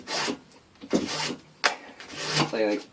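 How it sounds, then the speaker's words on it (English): Tips of Tecna 7902P manual welding pliers are scrubbed with abrasive in several short rasping strokes, close and fairly quiet, and a voice talks alongside them. "clean it up with a bit of abrasive"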